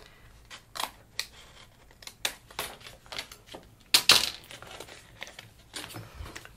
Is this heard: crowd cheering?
no